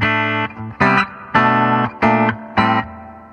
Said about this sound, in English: So if we turn the reverb on.